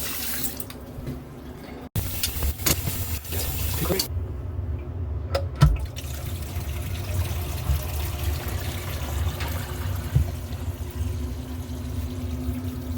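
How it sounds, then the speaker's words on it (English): Water runs from the plumbing under a newly installed bathroom vanity, a steady, close rush with a couple of sharp knocks and clatters partway through. "We got a leaking right there."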